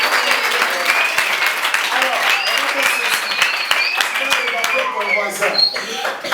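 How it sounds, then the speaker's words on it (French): Church audience applauding at a Christian celebration, sustained loud clapping from many hands with voices cheering and speaking over it throughout. "Applaudissez pour Jésus."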